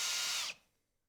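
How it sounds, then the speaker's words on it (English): Power drill boring a hidden cable channel in wood for a rustic lamp, a loud, close whirring burst that stops abruptly after half a second, followed by near silence. "I tested where I wanted the power cord to exit and drilled a hidden channel for it."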